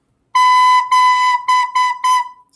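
A recorder sounds one pitch in five distinct notes, two held and three shorter, loud and close in a plain tonal pattern with short breaks between each.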